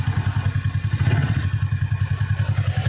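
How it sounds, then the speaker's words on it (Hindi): A TVS Ntorq BS6 scooter with an engine fault, at about 9,000 km, idles nearby with a rapid, even knocking clatter that thumps rhythmically throughout at steady loudness. "खट है साउंड इस तरह ऐसा लग रहा है कि मेरे अंदर नट बोल्ट खुल चुका है या इस तरह साउंड कर रहा है।"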